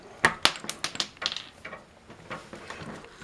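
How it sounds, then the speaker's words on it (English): Scissors snip a plastic blind plug crisply several times in quick succession, sharp close clicks with small pauses between them and no talking. "give it a little snip"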